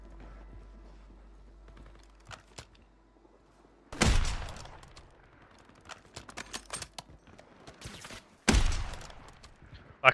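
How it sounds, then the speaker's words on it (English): Bursts of Carnini AK rifle fire in a Warzone battle royale match, two loud rapid volleys of gunshots standing out over scattered distant shots, footsteps and quiet ambient game sound. "That Carnini AK is so scary"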